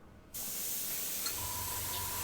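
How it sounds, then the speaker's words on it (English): An airbrush spraying paint onto a model tank gives a steady, close, even hiss that starts abruptly and runs without a break, with no voices over it. "I'm spraying an airbrush that sounds like a cat hissing."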